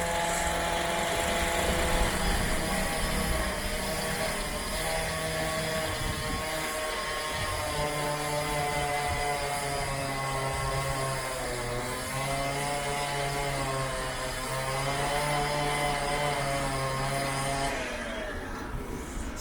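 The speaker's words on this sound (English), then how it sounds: "See him cutting the steel beam." A powered saw cutting through a steel beam in an underground former gasworks workshop, a long sustained droning whine with a pulsing engine tone, steady and moderately distant before cutting off near the end.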